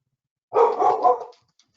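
A single dog gives a short, close bark-yowl lasting under a second, heard alone in a quiet room.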